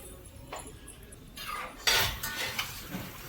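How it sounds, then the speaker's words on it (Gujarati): Dishes and utensils handled for washing after breakfast in a home kitchen, with a few soft clinks early on, then louder clattering of pots, plates and cutlery in quick bursts nearby. "હાલો વાસણ ઉટકવા।"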